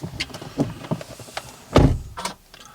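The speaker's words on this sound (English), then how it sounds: "I think your door's open still." Car door sounds during a driving lesson: scattered clicks and thumps, then a solid thud near the middle, followed by lighter latch and mechanism noises, heard from inside the vehicle.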